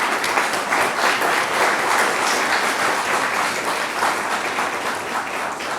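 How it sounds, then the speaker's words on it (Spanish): A seated audience gives a warm welcome to a guest with a long burst of full, continuous clapping, close and loud, holding steady throughout. "La recibimos con un gran aplauso."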